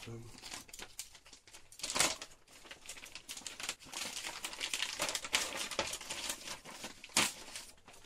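A paper instruction manual for a VBC Racing Lightning10 RC car is opened and handled, giving irregular close crinkles and rustles with a few sharper page flaps, while a person talks throughout.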